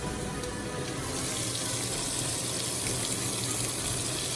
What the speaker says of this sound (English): started running water, full speed, into a washer that was completely finished washing